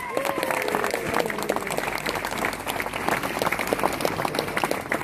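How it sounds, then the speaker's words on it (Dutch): At a traditional peasant wedding festival, the crowd applauds the wedding party troupe with lively, crisp clapping from many hands, and a few voices call out briefly near the start. "wil ik nog één groot applaus voor dit prachtige gezelschap"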